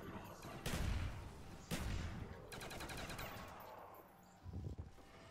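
Gunfire in the Call of Duty zombies map Kino der Toten: heavy bursts of shots and rapid automatic fire come in several loud clusters, separated by quieter gaps, fairly close and punchy.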